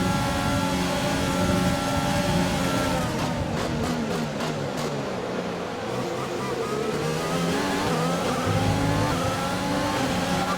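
A Formula 1 race car engine in F1 2020 drones loud and steady, pitch sliding down and climbing again as the car struggles around the track, with some tire noise mixed in.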